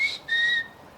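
Two sharp, high whistles from a person calling a dog during an outdoor detecting outing, the first short and the second longer and steadier, loud and close with no talking.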